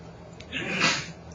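A single sneeze bursts out about midway through an otherwise quiet classroom during a maths lesson, rising and fading over roughly half a second.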